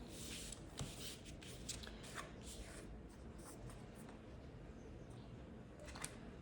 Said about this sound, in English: Split the deck this time.